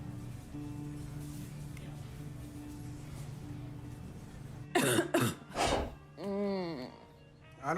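A woman coughs several times in a quick harsh burst, close and loud, then clears her throat, after a quiet stretch with a low steady hum.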